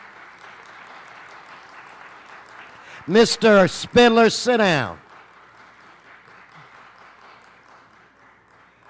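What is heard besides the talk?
audience applause for elementary school students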